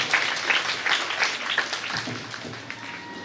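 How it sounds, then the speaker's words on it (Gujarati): Loud, dense applause from an audience at an award ceremony, a continuous wash of hand claps with slight surges, steady throughout. "ફરી જોરદાર તાળીઓ."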